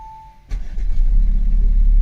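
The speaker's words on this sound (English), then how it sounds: "Let's just start the vehicle now." Audi A7 fitted with a Ghost 2 immobiliser starting up: a short crank and catch at about half a second, then a steady, close idle that fills the rest of the moment after a faint tone.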